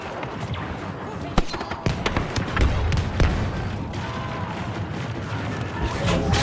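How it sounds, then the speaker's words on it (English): A grenade goes off in a Star Wars Battlefront 2 multiplayer battle on Endor, one sharp blast amid a dense, continuous clatter of blaster fire and battle noise. "Grenade out!"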